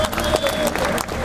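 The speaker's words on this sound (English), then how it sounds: "Ladies and gentlemen, a warm round of applause, please." Brief audience applause with some crowd noise at a men's physique bodybuilding competition, a short burst of clapping under a faint tonal whine.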